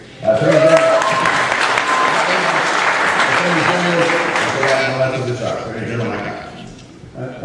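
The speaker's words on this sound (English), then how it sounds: "I don't mind anticipatory clapping at all." A debate audience claps loudly and continuously for several seconds, with voices and a few whoops mixed into the applause before it tapers off.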